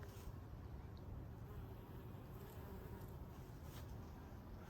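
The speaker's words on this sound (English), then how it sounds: "it looks like there's some bees" Faint, steady buzzing from bees in a Melbourne summer garden over a quiet outdoor background, continuous with no voices.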